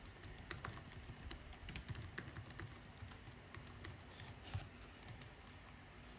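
Close, quiet typing on a computer keyboard while writing a SQL script, with rapid uneven key clicks running continuously and no voice.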